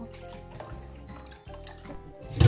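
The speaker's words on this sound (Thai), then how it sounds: "ก็นำมาล้างน้ำสองน้ำนะคะ ล้างเอา เกล็ดเอาขี้ออกให้หมดนะคะ" Water splashes and runs as cleaned fish are rinsed for homemade fermented fish paste, a close, steady trickle with a louder splash at the end and no talking.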